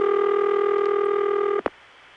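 A steady telephone dial tone hums for about a second and a half, then cuts off abruptly with a short click, leaving near silence.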